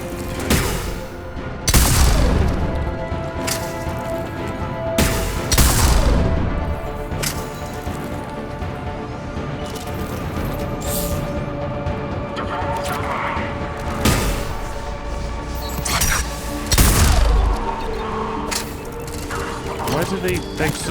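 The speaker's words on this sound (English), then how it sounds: "They suddenly have powerful grenades from?" Enemy grenades exploding during a Mass Effect 3 firefight: several heavy booms land a few seconds apart, each a sharp, loud burst that fades slowly, over a steady layer of gunfire and mechanical battle noise.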